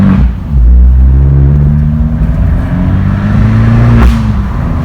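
A Fiat 595 Pista engine with stock exhaust revs hard with a deep, loud exhaust rumble, its pitch climbing and holding, then a quick blip near the end.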